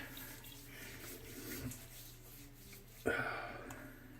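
Water poured from a mug into a shaving brush and cupped hand makes a soft, steady trickle, with a brief louder splash near the end, heard close up in a quiet room.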